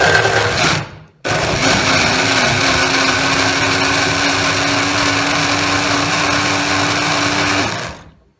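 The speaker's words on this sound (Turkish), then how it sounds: "Evet şimdi blenderımızdan geçiriyoruz." A blender whirs in a loud, steady high-pitched drone after a brief start and pause, blending grated coconut with hot water, then winds down to a stop.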